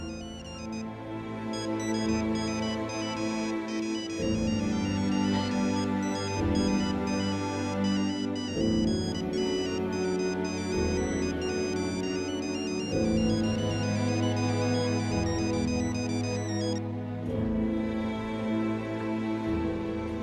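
A phone ringtone plays a looping electronic melody, steady and loud, repeating for a long stretch without pause.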